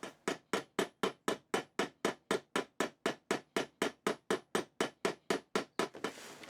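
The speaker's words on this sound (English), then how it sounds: "Now I can start riveting that on." Rivets being hammered into a sword guard made from a cut nail: a long, rapid, evenly paced run of about two dozen crisp metallic hammer strikes close by, stopping near the end.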